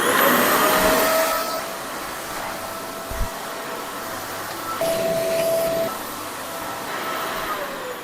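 A vacuum cleaner runs steadily at home for the whole stretch, a continuous whining drone that swells and dips slightly as it is moved across the floor, with a few small knocks and no talking.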